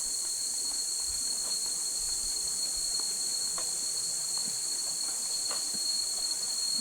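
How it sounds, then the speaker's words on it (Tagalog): Many crickets chirp in a rainforest at Hidden Valley Springs, Laguna, a dense, unbroken high trill that fills the air steadily, with faint scattered clicks and ticks beneath it. "Dami kuliglig."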